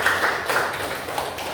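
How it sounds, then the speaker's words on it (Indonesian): A classroom breaking into applause for a student, with dense, steady clapping from many hands filling the room, close and fairly loud throughout. "beri tepuk tangan untuk dia"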